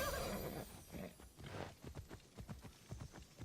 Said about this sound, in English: I just heard a horse.